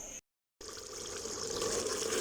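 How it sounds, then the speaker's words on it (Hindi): Water poured into fried keema in a cooking pot, a steady rushing pour that starts after a brief silence and continues alone, close and fairly loud. "अब मैं इसमें पानी ऐड कर दूँगी।"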